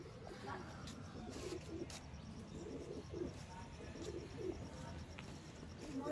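Repeated soft coos from a pure-bred pigeon in a breeder's loft recur at steady intervals across the span, set against a constant low background hum with occasional faint voices.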